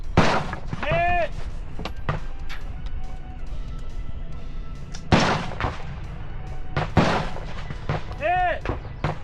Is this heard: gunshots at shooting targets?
yes